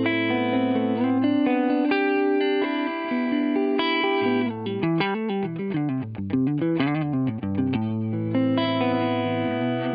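An electric guitar plays through a Milkman 100 amp and a pedalboard with chorus and reverb, sustained chords giving way to a quicker run of notes, loud and clear with no talking.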